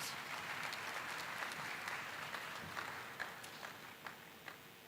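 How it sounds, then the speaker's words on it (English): An audience applauds at a university matriculation and welcome ceremony, a fairly faint, steady wash of clapping that thins toward the end into a few scattered claps. "Please give him a round of applause."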